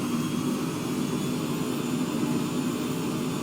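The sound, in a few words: aircraft engine revving up before takeoff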